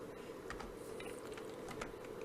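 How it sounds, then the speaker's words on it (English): Keys clatter steadily on a computer keyboard while coordinate values are entered, quick soft clicks in an irregular rhythm over a constant low background hum. "I can start typing in the coordinates"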